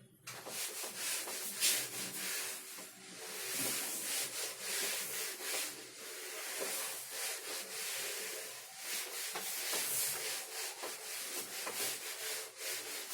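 A board being rubbed or erased during a physics lecture, a steady scratchy swishing friction sound that continues evenly for several seconds, close and moderately quiet, with no talking.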